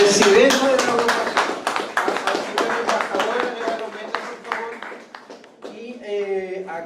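An audience at an academic lecture on Latin America applauds a guest with brisk, scattered clapping that runs for several seconds, while a voice speaks over it and continues after the clapping fades.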